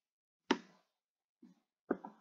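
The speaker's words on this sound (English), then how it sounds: "Excuse me, coughing." A person coughs in a quiet room, a sharp close cough, then a faint short one, then another cough with a brief follow-up, separated by silence.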